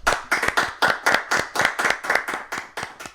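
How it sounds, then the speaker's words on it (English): Slow rhythmic hand clapping for the SMU Mustangs, about a dozen crisp evenly spaced claps from a small group close to the microphone. "I think the only thing we should start with is just a little round of applause for our SME"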